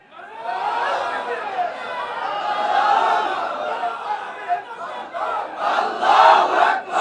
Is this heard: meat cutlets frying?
no